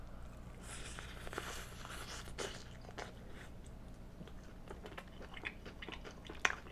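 BBQ fried chicken being chewed up close, soft crunchy bites and wet mastication over a low background hum, with a sharp crunch near the end.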